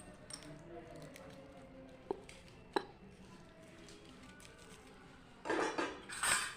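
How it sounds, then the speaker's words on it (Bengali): A small spoon stirring khichdi inside a green coconut: faint, sparse clinks and scrapes against the shell, then louder wet, squishy churning toward the end. "এবারে ছোট চামচটা দিয়ে একটু নাড়াচাড়া দিয়ে নেব"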